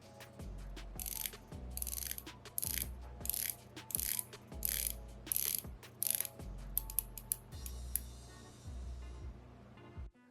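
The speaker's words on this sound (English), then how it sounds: "here's the bezel sound" A Seiko SPB317 Turtle dive watch has its rotating bezel turned, giving crisp ratcheting clicks in repeated quick bursts, close up and with no talking.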